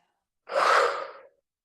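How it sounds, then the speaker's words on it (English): A single long exhale, a soft airy breath rising quickly and fading over about a second, alone in otherwise silent surroundings. "Exhale."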